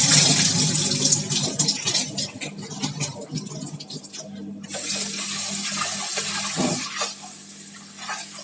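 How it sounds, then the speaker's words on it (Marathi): Urad dal being washed by hand in a bowl of water, with splashing, swishing and grainy rubbing sounds, a running tap, and a short pause midway before the sloshing resumes. "आता ही स्वच्छ 2-3 वेळा पाण्याने धुवून घ्यायची आहे"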